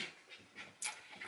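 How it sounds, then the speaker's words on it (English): A dog panting quickly and rhythmically while running around playing indoors, close and quiet, with several short breaths in a row. "that's my dog running everywhere like a madman playing right now"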